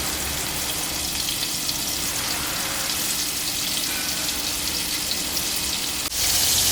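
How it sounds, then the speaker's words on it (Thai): Red tilapia coated in crispy batter sizzles in a pan of hot oil, a dense, constant crackle heard up close that swells louder near the end. "เดี๋ยวเราจะทอดให้ปลาเหลืองเลยนะครับ"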